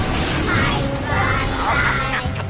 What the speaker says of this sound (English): The Calliope rattled and raced down the hill. With a crash and a bash, it smashed off the track.